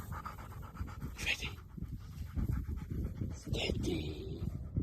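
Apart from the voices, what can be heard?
dog panting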